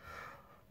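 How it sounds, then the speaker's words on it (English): A person yawns once while drawing: a soft, breathy drawn-out inhale close to the microphone that fades away, quiet and alone with no talk. "Sorry, I had to yawn."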